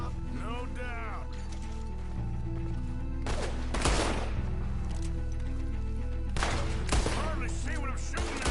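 Gunshots ring out in the Red Dead Redemption 2 video game during a night fight, two loud sharp bursts with trailing echoes over an ongoing music bed, with voices and game sounds between the shots.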